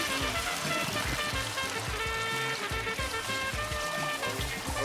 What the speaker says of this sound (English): We use water to pre-clean.